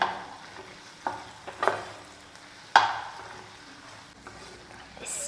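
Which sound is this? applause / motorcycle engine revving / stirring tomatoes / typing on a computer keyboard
stirring tomatoes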